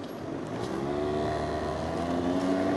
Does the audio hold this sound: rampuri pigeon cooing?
no